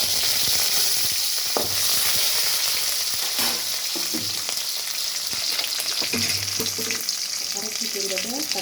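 Curry leaves, onion and dried red chilies with turmeric frying in hot oil give a steady close sizzle, with occasional stirring scrapes in the pan and no talk.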